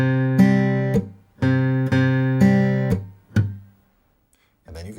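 Acoustic guitar chords strummed in a steady rhythm, each ring cut short by a muted, percussive dead-note strum on released strings, repeated several times before a pause and a fresh strum; close and clear, no talking.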